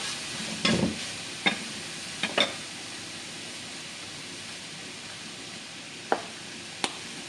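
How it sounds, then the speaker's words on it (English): Beef enchilada casserole filling stirred in a hot pan, a low steady sizzle broken by a handful of scraping spoon strokes at irregular intervals, close and without talk. "Give that a stir."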